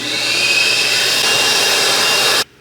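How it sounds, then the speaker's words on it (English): A vacuum cleaner runs over the seat of a 2022 Honda Civic Sport at night, giving a steady, close, high-pitched whirring roar that cuts off abruptly near the end. "Now I'll take the vacuum over it once again."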